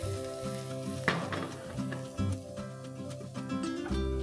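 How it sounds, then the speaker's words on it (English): Garlic and asafoetida fry in hot oil in a pan with a steady close sizzle, broken by a few sharp crackles and stirring clinks and scrapes, with no voices. "Swirl this well and allow the garlic to just kind of begin to turn golden brown in color"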